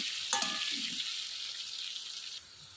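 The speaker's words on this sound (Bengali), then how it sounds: "আলুটাকে দেখো আমি উল্টে পাল্টে বারবার ভেজে নিচ্ছিলাম।" Potatoes fry in mustard oil in a wok, giving a steady, close hiss of sizzling oil with a brief stir or clatter near the start and no talk.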